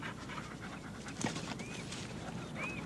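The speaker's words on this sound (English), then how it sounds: "Whoa! Good doggy." A dog panting rapidly and steadily at close range, with a soft whine or two and a brief thud partway through, no talk over it.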